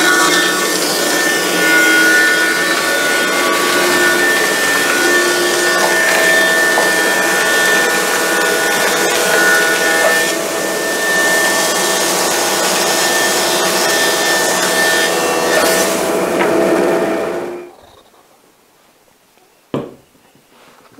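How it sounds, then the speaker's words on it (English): A woodworking jointer planing a wood surface: a loud, steady machine whine with rasping cut noise for about seventeen seconds, then the motor spins down to near silence, with a brief knock near the end. "I'll joint the surface."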